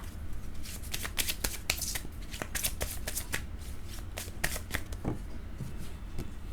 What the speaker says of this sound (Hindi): कार्ड्स की शफलिंग भी आप मिस मत किया कीजिए